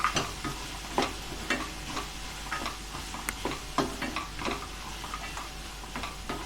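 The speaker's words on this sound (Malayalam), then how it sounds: "ഇനി ഇതിലേക്ക് നമുക്ക് ഒരു 20 കാഷ്നട്ട് ചേർത്ത് കൊടുക്കാം. അതും കൂടെ നമുക്കൊന്ന് ഇളക്കി കൊടുക്കാം." A spoon stirs tomato and cashew curry for paneer tikka masala in a pan, giving repeated scraping clicks and soft sizzling at a steady, unhurried pace, close and fairly quiet, with no talk.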